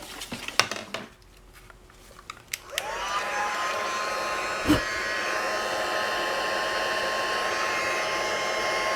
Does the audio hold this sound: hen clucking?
no